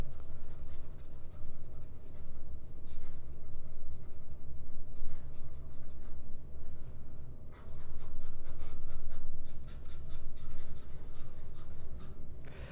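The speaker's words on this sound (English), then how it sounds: "fast writing" A Montblanc 145 Classique fountain pen with an S nib writing fast on paper gives a steady scratchy rubbing that runs almost without a break, close up over low background hum.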